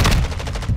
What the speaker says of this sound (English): I just missed my shot.